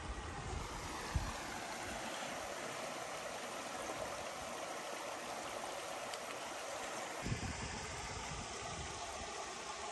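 A creek on rural Kentucky land flows in a steady, even broadband rush throughout, moderately loud and close, with no talk.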